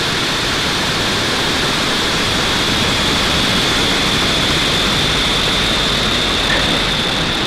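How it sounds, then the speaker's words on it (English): A SpaceX Falcon 9 rocket lifts off carrying the Intelsat Galaxy 37 satellite, a loud, continuous crackling roar with deep rumble that stays steady and saturating throughout. "ignition, and liftoff for Falcon 9"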